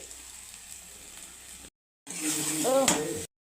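Kashmiri dried chilli powder and spices frying in hot oil for a prawn malai curry give a steady close sizzle, which cuts out briefly and then returns louder and hissier.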